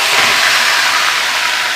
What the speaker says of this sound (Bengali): এবার আমি এর মধ্যে দিয়ে দিচ্ছি মশলাটা